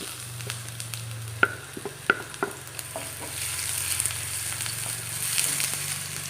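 Ginger, onion and curry leaves sauté in hot oil in a pan, giving a soft steady sizzle with scattered clicks and scrapes from stirring. No one speaks.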